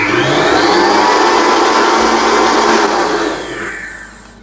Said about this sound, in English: we put our whisk attachment on and start whisking on the highest speed for about 3 to 5 minutes